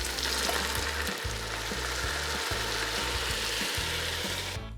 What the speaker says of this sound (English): we're gonna saute tomatoes, let them simmer for a bit